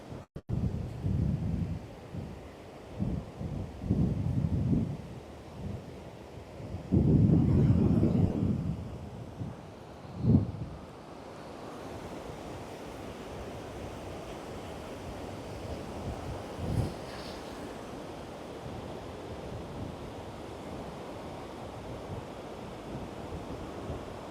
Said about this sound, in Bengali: একটু সমুদ্রের হাওয়াটা, সমুদ্রের জলের শব্দটা এনজয় করে নিই